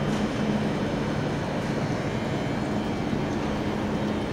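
A long train sits in a Paris main railway station, giving a steady, loud, continuous rumble and low hum with station ambience and no voices.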